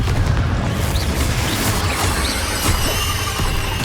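A Confringo fire spell in the Hogwarts Legacy video game bursts in a dense, loud roaring blast, followed by sustained rumbling, crackling noise with faint squeals mixed in.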